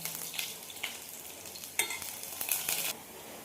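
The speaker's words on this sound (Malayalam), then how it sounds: "സിമ്മിൽ വെച്ചിട്ട് ഒന്ന് ചുവക്കുന്നത് വരെ ഇളക്കി കൊടുക്കാം." Ginger and half a teaspoon of white urad dal are stirred in a pan on low heat for semiya upma, giving a steady soft sizzle broken by several brighter scraping bursts of the spoon, close and clear with no talking.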